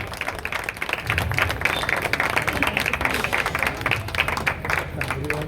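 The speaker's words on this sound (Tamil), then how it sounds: "அவர்களுக்கு நம்ம அனைவரின் சார்பாக ஒரு கரகோஷம் எழுதி அவரை வாழ்த்து முறை கொடுத்திருக்கிறோம்" Applause from an audience at a Tambaram Corporation Zone 5 Independence Day celebration function, a steady, dense wash of clapping that swells after the first second and holds to the end, with some voices mixed in.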